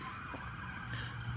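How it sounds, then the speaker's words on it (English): A police siren passes faintly outside on a city street, a steady wailing tone under low traffic rumble, distant and with no talk over it. "oh look, you hear police sirens?"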